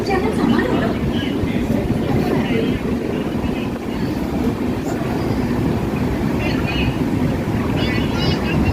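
A sleeper-class superfast train bound for Kozhikode runs with a steady, loud rumble and rushing wind noise throughout, heard from inside the carriage with no break.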